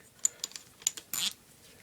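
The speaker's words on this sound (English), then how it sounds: "show you how this mounts again. Click." A SureFire SFMB muzzle brake, 7.62 mm with 5/8-24 thread, being mounted: a few small light metallic clicks and taps, close and quiet, ending in a brief scraping snap.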